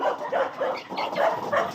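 Several dogs bark and yip in quick, uneven bursts at feeding time, moderately close, with a faint voice mixed in.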